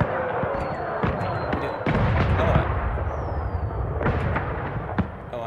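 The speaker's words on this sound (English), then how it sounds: "Oh, activate. Fireworks!" Fireworks going off in Dragon Age: Inquisition, a string of sharp cracking bursts and booms at irregular intervals, with a couple of rising whistles, set against a steady rumbling game background and occasional voices.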